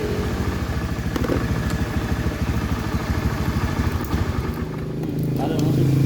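A Honda Beat FI scooter with a rough starter and stalling fault runs its engine during a fuel injection test, a close, continuous throbbing putter that rises slightly near the end, with someone talking over it.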